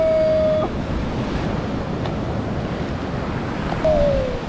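Ocean waves wash onto a sea shore in a steady, loud rush of surf mixed with wind buffeting the microphone. A faint high tone briefly sounds at the start and again near the end.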